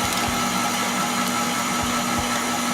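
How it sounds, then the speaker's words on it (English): A KitchenAid stand mixer beats cheesecake batter with four eggs, giving a steady, close motor hum with a faint rhythmic knocking and no talking. "I'm gonna lock the KitchenAid mixer and start"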